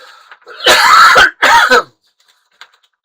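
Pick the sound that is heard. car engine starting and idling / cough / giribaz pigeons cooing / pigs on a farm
cough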